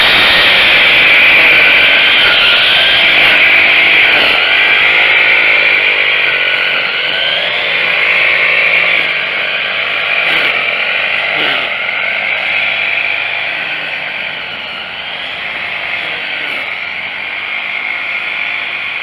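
A Troy-Bilt TB685-EC 30cc 4-cycle weed trimmer runs steadily while trimming around a fence. Its loud, high-pitched engine whine holds nearly constant for the whole stretch, with slight dips in pitch and load as the line cuts.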